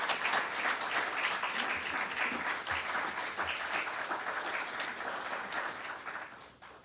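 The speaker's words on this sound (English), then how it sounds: "A big round of applause for all 10 of them" An audience applauds a group of visiting parliamentarians at a Tibetan parliamentary gathering. The dense, sustained clapping is loud at first and gradually thins and fades toward the end.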